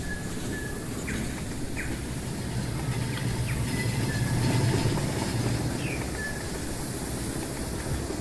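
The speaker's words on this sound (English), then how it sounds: "I think I will try to send this C6 train to Liberia, but let's see if the tracks can do that." A C6 train in the railway game Rolling Line rolls steadily along the tracks, a continuous low rumble throughout with scattered bird chirps above it.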